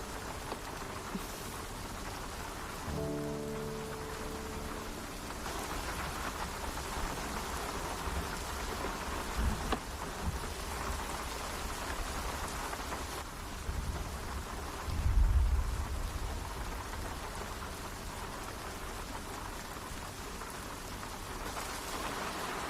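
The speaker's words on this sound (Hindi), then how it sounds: "बारिश भी इतनी जोरों से हो रही है।" Heavy rain pouring steadily as a dense continuous roar, with a low rumble of thunder swelling midway, with no voices.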